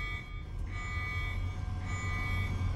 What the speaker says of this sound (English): The alarm's still going off.